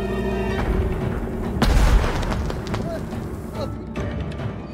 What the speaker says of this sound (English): More fireworks! On all sides!